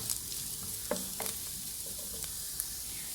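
Onions, green chillies and curry leaves sauté in a pan for a Kerala chana curry, giving a soft steady sizzle broken by a few scraping stirs and spoon clinks, close and alone.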